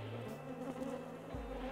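Local black honeybees swarm around an opened hive frame, a steady droning buzz with shifting pitches from bees flying close by, continuous and fairly loud with no talking.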